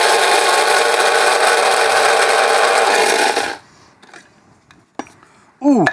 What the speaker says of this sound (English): what you want to do is to grind them so you've got some big bits, some small bits, and some pepper powder as well